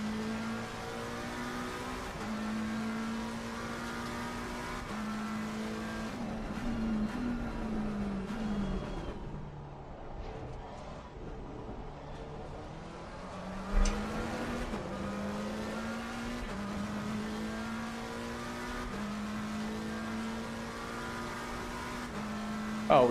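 A race car engine howls steadily through a lap in Assetto Corsa Competizione, with repeated rises in pitch as it revs, clear gear shifts and brief lifts through corners, loud and close throughout.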